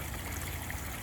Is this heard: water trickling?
yes